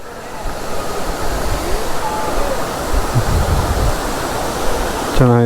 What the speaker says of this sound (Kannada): ಬಟ್ ಫಾಲ್ಸ್ ಮಾತ್ರ ಸಕ್ಕತ್ತಾಗಿದೆ